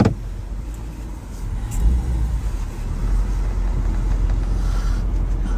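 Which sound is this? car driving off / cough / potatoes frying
car driving off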